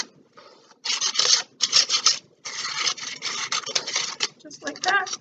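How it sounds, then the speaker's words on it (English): Kerrygold butter is rubbed over a hot flour tortilla in quick, repeated scraping and rubbing strokes that come in bursts with short pauses, close and moderately loud. "here's my Kerrygold. This is pretty sacrilegious, but I'm going to do it anyway. Just get the butter. Oh yeah, just rub it on here."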